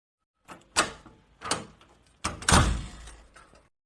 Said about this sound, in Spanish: la puerta se cerró de repente detrás de ella